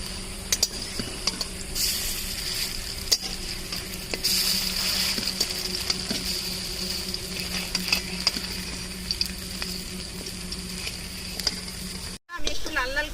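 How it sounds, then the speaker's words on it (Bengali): Cabbage koftas deep-fry in hot oil with a continuous bubbling sizzle, close and steady, with occasional clinks of a utensil against the pan. "এগুলোকে কোপ্তার আকারে আমি ভেজে নেব।"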